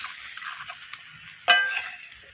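Vegetables and lentils sautéing with salt in a pan for a Saraswati Puja gota dish, a soft steady sizzle with a sharp utensil scrape partway through and faint stirring clicks after.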